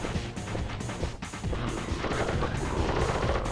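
Gunfire from an enemy in the PS3 game Sly Cooper and the Thievius Raccoonus, a dense run of loud, sharp shots and crashing bursts that repeat steadily for a few seconds with no talking over them.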